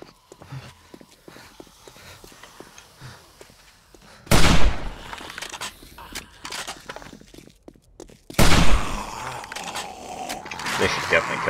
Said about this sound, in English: Cause maybe we can test out this hunting rifle.